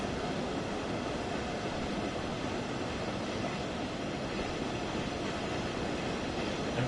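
Class 66 freight locomotive in Train Sim World 2, a steady broadband rumble and rolling wagon noise holding at an even, moderate level throughout with no talk.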